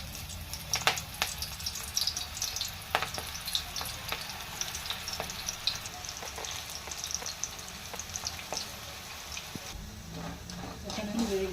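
Pakodi fritter batter sizzles and crackles in hot oil with a steady frying hiss and scattered pops, stirred now and then, under a talking voice.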